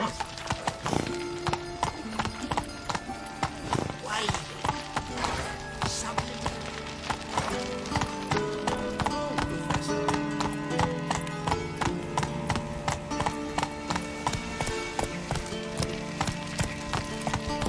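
A horse gallops in The Witcher 3, with steady rhythmic hoofbeats drumming along for the whole stretch, loud and close, joined by faint in-game sounds.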